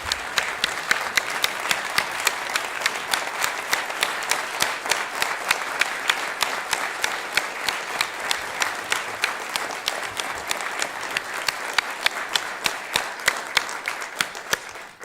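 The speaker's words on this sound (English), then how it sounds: "I'm sure that we could applaud for a lot longer" At a public address by new CMPD Chief Estella Patterson, a crowd keeps up long, steady applause at an even level, individual sharp claps standing out from the dense mass.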